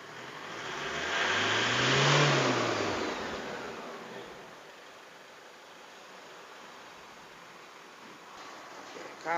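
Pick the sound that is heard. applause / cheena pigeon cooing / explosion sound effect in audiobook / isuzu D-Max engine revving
isuzu D-Max engine revving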